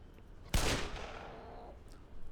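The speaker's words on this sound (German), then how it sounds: "Ein Schuss! Ein einziger Schuss!" A single sharp gunshot in the video game Black Mesa bursts out suddenly, loud and close, then rings and decays into a fading echo.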